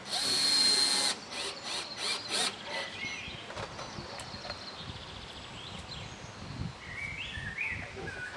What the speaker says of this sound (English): I'm going to put 2 Turbo Gold XT screws in each bracket to hold it in position